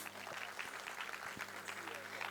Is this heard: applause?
yes